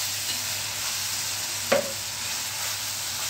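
Suki bhaji, a dry Gujarati vegetable dish, being tempered in a pan: a steady frying hiss runs throughout, with one short sharp sizzling burst midway, no voices.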